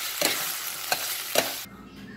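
Peas being stirred into a keto xanthan gum gravy make a soft, continuous simmering hiss, with three brief spoon strokes, and then the sound cuts off abruptly near the end.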